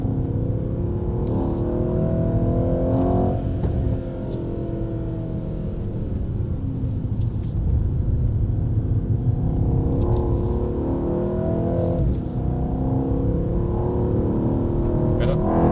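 Mercedes-Benz car lapping a track, a loud continuous engine drone that rises and falls as it changes gear, heard from inside the car under road and wind noise with brief clicks.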